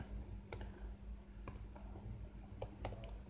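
A computer keyboard is used during editing work in Adobe Premiere Pro, giving a few faint, sparse key clicks close by over a low room hum, with no voices.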